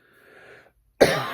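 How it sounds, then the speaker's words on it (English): A single harsh cough bursts out loudly and close, following a faint, breathy throat sound a moment earlier. "I don't know why I'm coughing so much."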